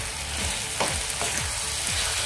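Aubergine bharit fries with salt being stirred in, a steady close sizzle broken by several rhythmic scraping strokes of a spoon through the mash, and no voices.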